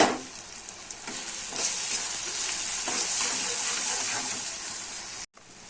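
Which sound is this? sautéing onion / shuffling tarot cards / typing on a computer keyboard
sautéing onion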